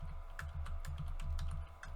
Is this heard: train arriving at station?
no